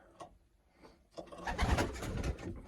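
Young pigeons in a settling basket aviary, giving soft cooing and fluttering sounds that start faint and sparse, then swell into a fuller, closer burst of wing flaps and coos.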